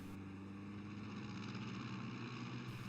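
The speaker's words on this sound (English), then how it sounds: "Oh, the damn airplane." Steady low propeller-aircraft drone from the video game The 39 Steps, a continuous faint rumble of a plane flying overhead with no talk.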